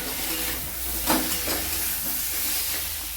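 Beans, potato and bori frying together in a pan, giving a steady, continuous sizzle and hiss with faint stirring scrapes, heard close and alone.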